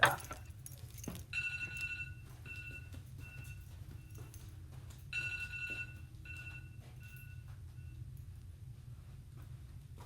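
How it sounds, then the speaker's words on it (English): A phone rings from across a room in two repeated bursts of bright, trilling tones, moderately distant and slightly echoey over a steady low background hum. "my phone is on the other side of the room now, so I have to get up to turn it off"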